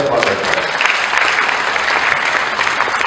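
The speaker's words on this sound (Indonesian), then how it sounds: "Tepukkan kuasa kita." Audience applause at a charity orchestra concert, a dense, loud burst of clapping from a large crowd with a few scattered cheers, steady throughout with a voice faintly under it.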